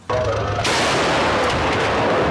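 A Challenger tank's 120 mm rifled gun fires once with a loud, sudden boom, followed by a long rumbling roar that fills the rest of the moment.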